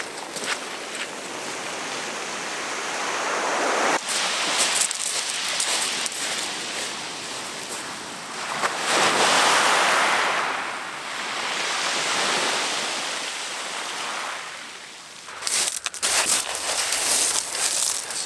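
Waves wash onto a beach at night near old Mulberry Harbour pontoon remains, a continuous close rushing surf that swells and recedes in slow surges, with no voices.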